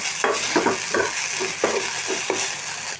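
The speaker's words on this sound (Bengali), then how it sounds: "আমি ডিমটা দিয়ে দিলাম এখানে, নাড়াচাড়া করে নিব, গুঁড়ো গুঁড়ো হয়ে যাবে" Egg being stirred in a frying pan while scrambling with coriander leaves, giving soft repeated scraping strokes over a steady close sizzle, with no voices.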